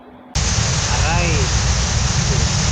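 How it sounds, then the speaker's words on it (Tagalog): Heavy rain suddenly starts pouring down and roars loudly at a sheltered spot, an abrupt onset into a dense, steady downpour with faint voices briefly audible beneath it. "Ang lakas ng ulan eh oh. Grabe yung ulan, biglang bumagsak."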